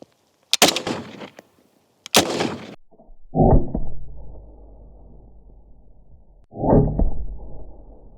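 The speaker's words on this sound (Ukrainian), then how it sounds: "Постріл." Several loud, sharp gunshots from a rifle with the suppressor removed, firing civilian rounds at a plate, two close together early on and later ones with booming echoes that ring out and slowly fade.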